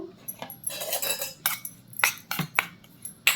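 Metal spoon scraping and clinking against a bowl while oil is stirred into ground spice powder for a black brinjal slice dish, a series of sharp close taps and scrapes in an irregular rhythm.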